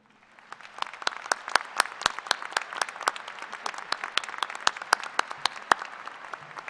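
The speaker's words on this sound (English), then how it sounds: "Will you please join me in a round of applause for them?" Commencement audience at a university graduation ceremony giving a round of applause for families and friends: many hands clapping in a hall, sharp distinct claps at first, then building into a steady, moderately loud ovation.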